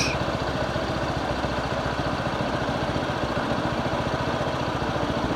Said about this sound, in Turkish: Evet şu anda durdum. Sıcak motor.